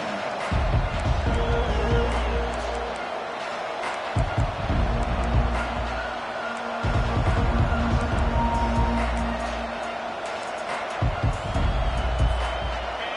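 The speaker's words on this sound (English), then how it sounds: "This crowd trying to make life miserable for this offense." A stadium crowd at an American football game roars and rumbles to disrupt the offense, a continuous dense din that swells in waves with deep booming surges, while a play-by-play announcer talks over the noise.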